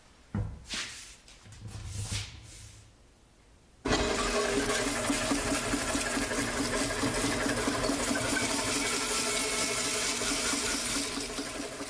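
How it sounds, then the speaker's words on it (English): A bandsaw cuts a length of rubber for a wooden wheel. After a few quieter knocks and handling sounds, the saw starts abruptly and runs as a loud, steady, close buzzing whir until the end. "Just take it to the bandsaw and cut it to length."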